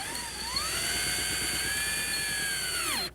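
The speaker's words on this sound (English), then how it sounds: "set the plastic roof dome in position and secure it with screws" A power driver runs screws into a plastic tubular skylight roof dome, giving one sustained, loud high-pitched whir whose pitch sweeps up at the start and drops away as it stops.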